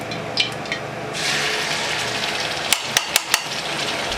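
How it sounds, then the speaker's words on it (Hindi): Chopped onion drops into hot ghee in a pan, setting off a broad steady sizzle that swells after about a second, with a few sharp utensil clinks near the end. "चॉप किया हुआ प्याज डालेंगे।"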